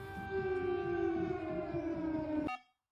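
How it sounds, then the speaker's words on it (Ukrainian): An air raid siren wails during wartime in a Ukrainian city, a loud sustained tone with steady harmonics that holds for about two and a half seconds, then cuts off abruptly. "Щойно пролунала повітряна тривога"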